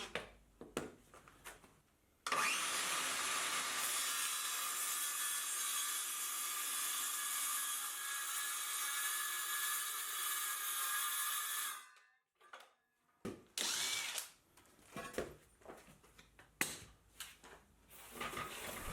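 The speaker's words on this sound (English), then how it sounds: "And I use my homemade track for my circular saw, which I need to move halfway through the cut" Cordless DeWalt circular saw cutting a sheet of plywood along a homemade track: a loud, steady high-pitched whine for about ten seconds, stopping partway for a break, then shorter clattering bursts as the track is moved and the cut continues.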